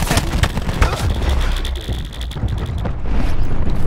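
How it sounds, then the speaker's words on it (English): A cluster grenade goes off in the video game Black Ops 4, heard as a dense run of booming blasts that rumble continuously for several seconds, loud and close. "Cluster nade incoming."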